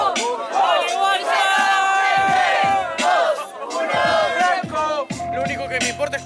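Crowd at a freestyle rap battle roaring and cheering with whoops and shouts, loud and continuous in rising and falling waves, with a few brief dips between bursts.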